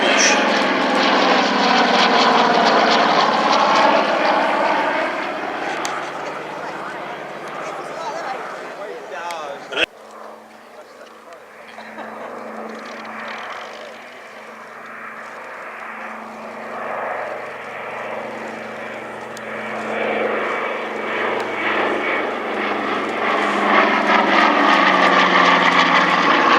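Propeller aircraft, including a Dakota, fly in close formation overhead at the Shuttleworth heritage airshow. A loud sustained engine drone swells and eases while a commentator talks over it throughout.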